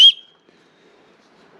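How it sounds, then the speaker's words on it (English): A single short, piercing whistle blast from a small survival-pack whistle, loud and close, cutting off quickly into near silence. "This is also a whistle."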